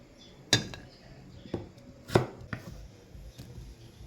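Onions are chopped on a cutting board for gotong Batangas, with several distinct knife strikes landing at uneven intervals, close-up and crisp against a quiet background.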